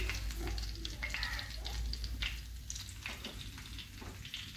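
Pieces of pomfret fish shallow-frying in hot oil over raised gas heat, a soft steady sizzle with light crackles and occasional stirring, fairly quiet throughout.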